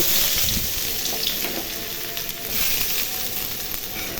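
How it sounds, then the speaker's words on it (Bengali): Chopped onion frying in hot oil for a Bengali spicy oil curry of stinging catfish, a steady loud hiss and sizzle that carries on throughout with faint crackles and no voices. "তেল গরম হয়ে গেছে এখন পিয়াজ কুচি দিয়ে দিব"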